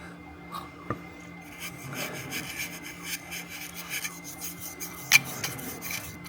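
A paintbrush works paint onto model railway rolling stock in soft, repeated scratchy strokes, close and fairly quiet, with an occasional light tap against the model and no talking.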